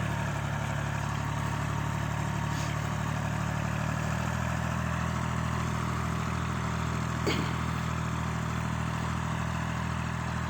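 A tractor engine idles with a steady low rumble and faint clatter, droning evenly throughout without voices, during field ploughing.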